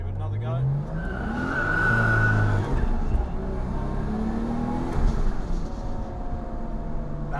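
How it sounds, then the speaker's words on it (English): A Nissan R33 Skyline sedan with a fresh engine and extra boost spins its tires under hard acceleration, a loud engine roar with a rising squeal of rubber losing grip, heard close and steady throughout. "That's actually the first time I've lost traction in this car since putting a motor in."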